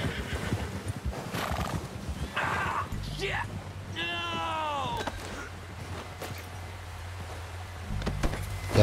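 In Red Dead Redemption 2, a horse lets out a loud, rising-and-falling whinny amid scattered hoof clops, with someone talking over the game sounds.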